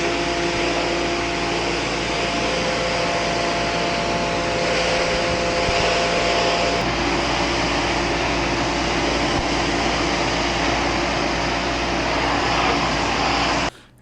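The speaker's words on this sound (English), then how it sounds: "the pressure washer makes it super easy just to wash everything off of it" Giraffe Tools Pressure Washer Pro, a powerful 2024 model, blasting debris off synthetic grass blades in a yard: a loud, steady high-pressure hiss and motor drone running continuously for about fourteen seconds, then cutting off abruptly at the end.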